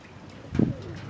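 A single soft, low coo from a Taiwan pigeon, brief and fairly close, over a faint background hum.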